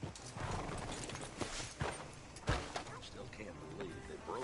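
Horse hooves clip-clop steadily on a hard surface in a PS4 video game, with a voice talking over them and faint background noise.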